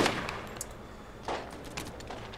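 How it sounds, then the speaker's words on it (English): Gatling turret fire in the Borderlands video game: a few sharp gunfire bursts, the loudest opening the clip and another around the middle, over a steady low background hum, with no talking. "Oh crap, I forgot the Gatling turret is still there."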